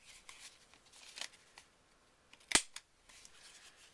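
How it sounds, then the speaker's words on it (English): Paper card corners clipped with a corner rounder punch while making a handmade Easter card: a quiet, faint snipping early on, then one sharp, close click, with a couple of softer clicks after it and no talking. "I'm going to use my corner rounder. And I'm going to round these corner edges off."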